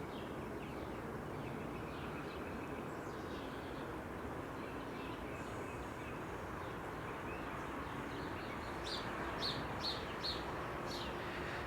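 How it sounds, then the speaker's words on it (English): Birds sing and chirp in a garden in the morning, with a few brief, fairly faint calls standing out against a steady, rushing outdoor background. "Oh, garden looks so fresh in the morning, and all the birds."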